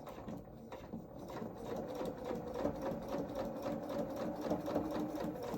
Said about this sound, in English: now I'm going to sew that next row of stitches to stitch the knee pad on